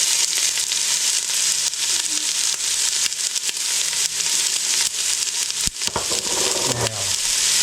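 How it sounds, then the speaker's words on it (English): Oil sizzles and fries loudly in a hot pan on a home stove, a constant bright crackle with a few clattering stirs near the end. "Hear the sizzle."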